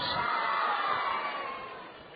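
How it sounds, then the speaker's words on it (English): A large crowd at a Cedar Rapids Kernels versus Fort Wayne Wizards minor league baseball game in 2006 roars with cheering and shouting, loud at first and then fading. "Big crowd starting to get into it."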